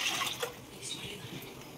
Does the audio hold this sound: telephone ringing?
no